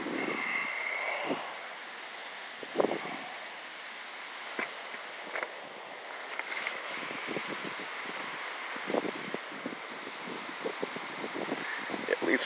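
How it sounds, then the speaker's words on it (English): Wind blows and buffets the microphone in soft gusts on a fall day in a garden, with leaves rustling and a few faint knocks in a quiet outdoor setting. "It's a little windy."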